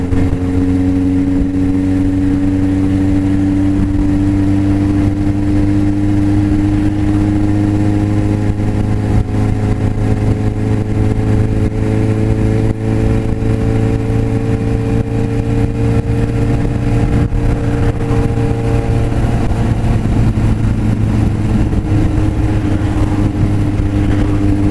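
A Suzuki GSX750F motorcycle engine runs steadily in slow traffic, a loud continuous drone with shifting tones as it idles and revs gently throughout, close and alone with no talk.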